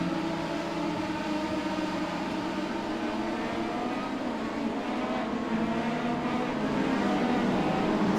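Race cars in a GT4/TCR sim racing game, a dense continuous engine drone with layered shifting pitches from several cars at once, loud and steady with no talk.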